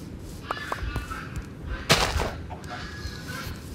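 A video game chicken gives a few soft, scattered clucks against quiet game ambience, with one louder, sharper burst partway through.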